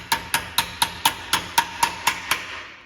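A specialty hammer taps new brake clips into place on a 16-inch brake job, eleven crisp metallic strikes at an even, quick rhythm, close and clear with no talk.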